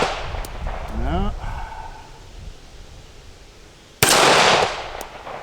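A single loud, sharp report from a Remington R1 1911 pistol firing a .45 230 grain ball round outdoors, following a short stretch of quieter rustling and a brief voice.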